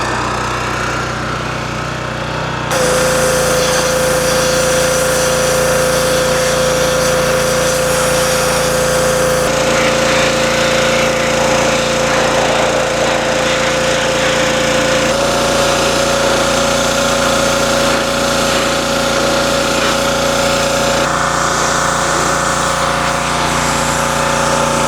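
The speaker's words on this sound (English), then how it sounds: "I just now started pressure washing" Pressure washer running loudly and steadily while stripping a vintage Buffalo No.18 drill press, a continuous motor drone with a steady whine and spray hiss shifting in intensity, no talking.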